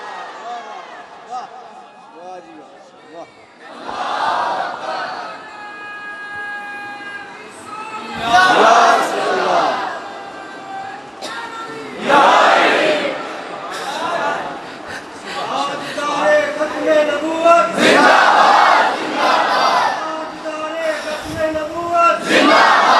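Crowd at a religious speech shouting slogans in loud bursts that come in waves, with a speaker's voice leading between the chants.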